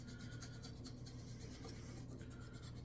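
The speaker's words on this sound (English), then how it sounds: "we're just finishing up, kind of buffing it a bit here, if you will, with the 400" A wooden gunstock is buffed by hand with 400-grit sandpaper, giving soft, quiet, repeated rasping strokes in a continuous, even rhythm with no talk.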